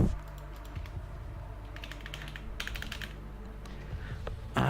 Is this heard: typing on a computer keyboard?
yes